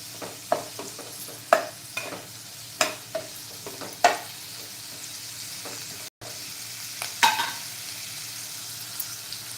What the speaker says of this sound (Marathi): बारीक चिरलेला एक कांदा चांगला परतून घ्या